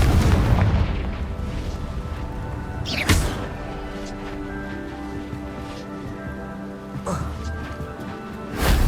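Confringo fire-spell blasts in the video game Hogwarts Legacy: two sharp explosive booms a few seconds apart, each with a bright crackling burst, over a continuous game soundscape with a voice heard.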